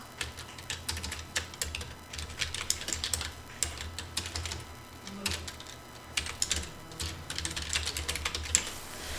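Someone types a custom message on a computer keyboard: close, steady bursts of quick key clicks with short pauses between runs, no voices.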